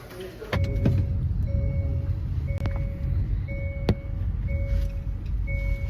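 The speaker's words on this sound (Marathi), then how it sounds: "मला वाटतं आली गाडी" A car arrives amid a steady low engine rumble, with a series of short electronic beeps repeating over it at close range.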